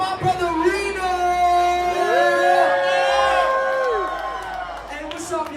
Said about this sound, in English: I need y'all to make a round of applause for my brother Reno!